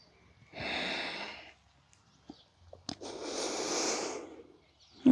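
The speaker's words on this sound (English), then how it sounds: "Good, strong breath, 2 more." Two strong, audible breaths during a yoga flow, each a long airy exhale close to the microphone, separated by a short pause with small clicks.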